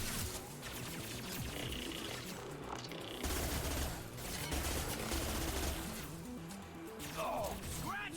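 Rapid automatic gunfire in the shooter Mass Effect 2 (Legendary Edition), a weapon loaded with disruptor ammo, firing in dense sustained bursts amid battle noise, with someone talking over parts of it.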